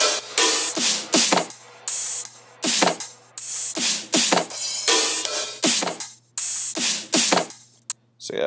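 A heavy future bass drum group plays dry without EQ: loud, bright, punchy hits and noisy bursts in a steady driving rhythm over a constant low hum, with short gaps between phrases.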